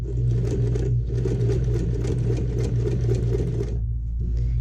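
A sewing machine stitches a messenger bag in a fast, steady close-up run of rapid needle clatter, stopping briefly near the end before starting again.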